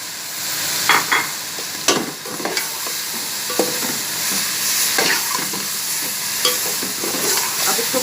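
Spices and tomato paste fry in a pan for mutton qeema, a close, continuous sizzle broken by repeated scraping stirs and a few sharp knocks of the spoon.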